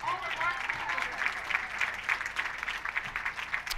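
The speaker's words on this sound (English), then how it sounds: "How about one more big round of applause for all of our finalists?" Moderate applause from the crowd at the 2018 PWBA East Hartford Open women's bowling finals, steady clapping in a large indoor bowling center with a faint voice and arena echo underneath.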